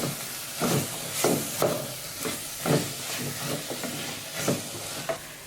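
Cooked chana masala for chole batura is stirred in a pan with a spoon, making a run of rhythmic scraping strokes, about seven, over a low steady sizzle, close and with no talking.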